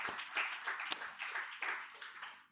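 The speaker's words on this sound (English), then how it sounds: "give yourself, once again, a very big round of applause" Audience members at a conference applaud, a soft, distant spread of clapping hands with a few sharper individual claps standing out.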